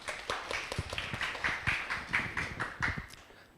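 A small audience at a Korean labor-law exam briefing session claps to welcome a certified labor attorney to the stage, a steady patter of hand claps lasting a few seconds before fading out.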